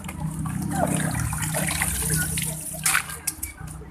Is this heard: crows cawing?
no